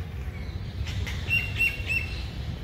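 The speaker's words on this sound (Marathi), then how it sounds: "पक्ष्यांचा आवाज" Birds chirp in Empress Garden, a botanical garden in Pune, with a few faint, high, thin calls scattered over a low outdoor rumble.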